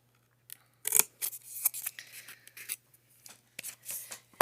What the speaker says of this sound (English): once you've cut all of your squares out